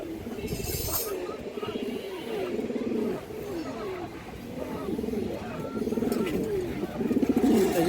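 Pure pair of Raga Giribaz high-flyer pigeons at a loft, cooing in repeated low throaty phrases, close and fairly loud, with other birds faintly around.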